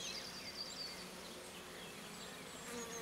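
Carpatica F1 honeybees humming around an open six-frame divisible Dadant hive, a soft, continuous close buzz with individual bees droning past, no talking.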